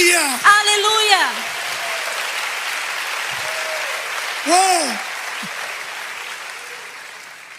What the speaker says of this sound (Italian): Forte applauso a Cristo.